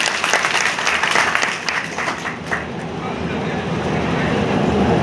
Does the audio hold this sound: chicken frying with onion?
no